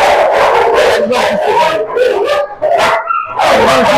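Young pups of German Shepherd, Lhasa Apso and Spitz breeds bark and yip in loud, rapid overlapping bursts close up, with a whimpering note near the end.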